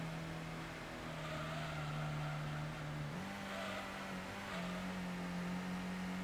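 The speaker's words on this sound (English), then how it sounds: "you can just hear the engine ringing there" Turbocharged 3-litre car engine in the Gran Turismo racing video game, a faint steady droning whine holding one pitch, then stepping up slightly and sustaining to the end.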